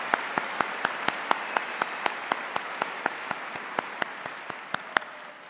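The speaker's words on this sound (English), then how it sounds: "let's give all of our student speakers so far one round of applause" At a high school graduation, sparse applause for student speakers, with one prominent pair of hands clapping in a slow, regular rhythm over a faint background of other clappers, steady and fairly close.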